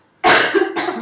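A single loud, close cough bursts out abruptly, followed by a second shorter hack, alone with no talk around it.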